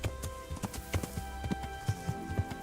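Horse hooves clip-clopping at a steady trot while riding in Kingdom Come: Deliverance, a medieval video game; a moderately loud, rhythmic run of clear hoof strikes with no other sounds over them.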